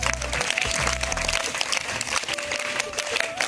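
An audience at a school science day celebration claps in a steady burst of applause, fairly close and sustained, with a low hum underneath.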